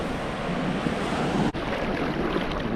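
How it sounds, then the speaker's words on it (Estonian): Ocean waves breaking on a beach in Fuerteventura, a steady loud roar of surf with heavy wind noise on the microphone, continuous throughout with a brief dropout midway. "Korralikud lained"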